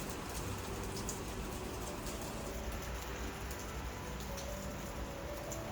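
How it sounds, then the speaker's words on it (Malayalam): Steady rain falls continuously, a dense even hiss of drops on surfaces with no voices. "അങ്ങനെ നല്ല മഴയായിരുന്നു ഉച്ചയ്ക്ക്"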